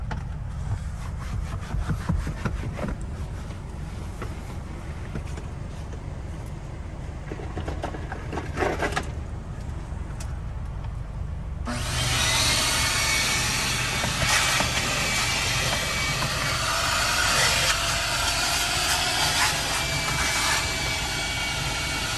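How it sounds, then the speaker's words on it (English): A vacuum cleaner works over a car seat interior, its steady suction roar rising louder and brighter partway through as the nozzle moves across the upholstery, with no talking. "we're going to pan to the back and you're going to see vacuuming"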